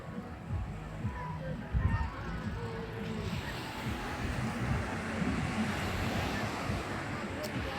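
Big ocean waves break along the beach at Cox's Bazar, a broad continuous roar of surf mixed with wind buffeting the microphone, with people talking over it at times.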